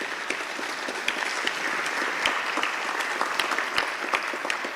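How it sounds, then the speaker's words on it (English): Sustained, dense applause from a reception audience of diplomats in Zimbabwe as the President leaves the rostrum, steady and full throughout with crisp individual claps standing out. "Let's give him a big round of applause as he leaves the rostrum."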